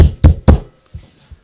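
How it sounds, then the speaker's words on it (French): Three quick, heavy knocks on a door ring out loud and close, followed by two softer, duller thuds. "d'un seul coup, on entend taper."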